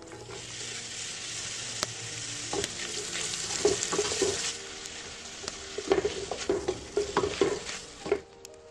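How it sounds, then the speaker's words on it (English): Onion and peppers cooking down in oil in a pot after lamb has been browned, with a steady sizzle and frequent clicks and scrapes from stirring. "Now remove the meat and cook the onion and peppers down in the same oil."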